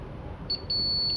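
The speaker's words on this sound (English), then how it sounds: "on this side there is also a beep" A multimeter's continuity beep while probing a Samsung M51 phone board: a short high electronic tone, then a longer steady beep, close and alone.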